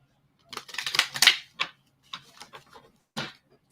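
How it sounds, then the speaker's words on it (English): Oracle cards being shuffled by hand, a run of close crisp riffling and snapping bursts followed by scattered softer flicks and one more sharp shuffle, with no talking. "I'm shuffling with this deck"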